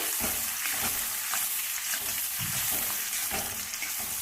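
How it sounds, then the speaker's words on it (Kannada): Onions frying in hot oil give off a dense, close crackling sizzle that runs steadily throughout, with soft scraping knocks of a spatula stirring at irregular intervals and no voices. "ಎಣ್ಣೆ ಕಾದಿದೆ ಇವಾಗ ಈರುಳ್ಳಿ ಹಾಕೊಳ್ತಾ ಇದ್ದೀನಿ ಎಣ್ಣೆಗೆ"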